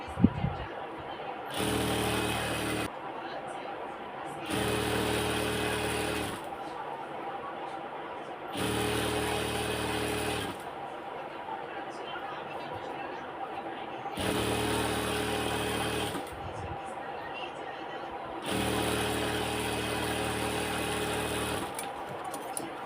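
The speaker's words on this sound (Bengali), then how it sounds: "তবে সাইডটা সেলাই করে দিচ্ছি।" A sewing machine stitching the side seam of ladies' pants, running in several close bursts of steady whirring several seconds long, separated by short quiet pauses.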